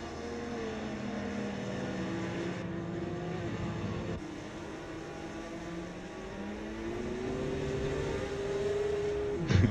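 GT race cars lapping Donington Park circuit, engines droning and shifting pitch as they pass at mid distance, a steady layered roar with rising revs and one sharp swell near the end.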